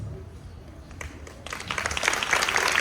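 Audience applause at a Year 6 school concert, starting as scattered claps and swelling into fuller, louder clapping over a few seconds, heard from within the crowd.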